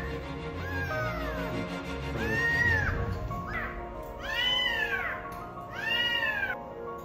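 A rescued kitten meows repeatedly up close, about four high, rising-and-falling cries that grow louder toward the end, with a little background noise between them.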